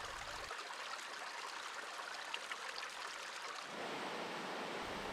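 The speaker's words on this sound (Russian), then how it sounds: "она то грохочет меж камней и валунов, то спокойно струится по пологим участкам" The Katun, a mountain river in Altai, rushes over stones and boulders in a steady hiss of flowing water, quiet and unbroken, with the texture shifting partway through as the roar broadens.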